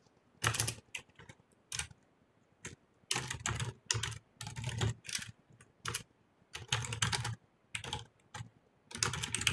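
Code is typed on a computer keyboard in close, irregular bursts of quick key clicks separated by short pauses.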